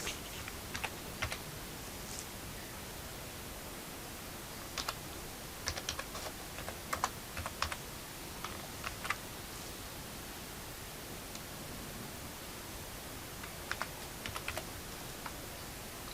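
Sparse bursts of computer-keyboard keystrokes from a password being typed at a computer, faint against a steady background hiss, with clusters of taps separated by pauses.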